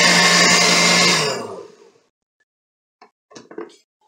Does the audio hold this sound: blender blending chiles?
yes